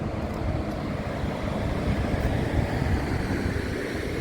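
Sea waves along the coast near Kaputaş and Patara, a continuous low rushing surf roar mixed with wind buffeting the microphone, steady and fairly loud with no voices.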